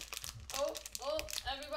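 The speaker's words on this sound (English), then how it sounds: "Let me take the scissors and cut a little notch" Scissors snip a notch and the crinkly foil of a Disney Princess Comics minis blind box bag is torn and rustled open, several close crinkling bursts with a person talking over them.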